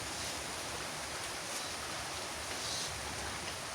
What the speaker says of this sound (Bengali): বৃষ্টি তিনিও চলে আসলো